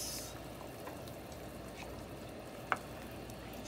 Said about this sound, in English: Okay, give it a stir.